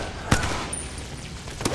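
Gunfire in the video game Apex Legends: two sharp, loud shots about a second and a half apart, with a hiss of game ambience between them and no talking.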